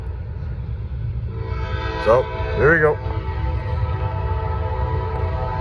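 A Norfolk Southern freight train sounds its horn in two short blasts over a low rumble at trackside in Gaffney, South Carolina; someone speaks briefly just before.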